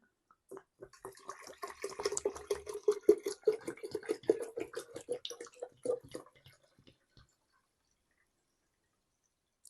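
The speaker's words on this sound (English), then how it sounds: "now we're going to add some cold water" Cold water splashes into a vessel while making lemon wine, an uneven burst of pouring and gurgling for several seconds that tapers off into silence.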